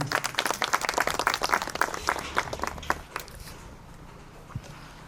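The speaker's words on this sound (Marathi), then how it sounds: "जोरदार टाळ्या चौथे सरांसाठी." An audience at a school gathering applauds a teacher with dense, energetic clapping for about three seconds, then it fades into a quieter, murmuring room.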